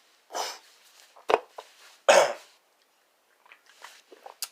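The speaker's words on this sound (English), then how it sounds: "It does give you a little cough there." Coughing after sniffing Fribourg & Treyer Santo Domingo snuff: a few short, sharp bursts close to the mic, spaced apart, followed by quieter small throaty sounds.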